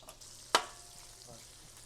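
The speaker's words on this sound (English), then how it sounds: "we'll just go and make these pan fry down a little bit" Shrimp heads frying in a pot, a soft continuous sizzle with one sudden sharp pop or clatter early on, then quieter crackling, fairly faint.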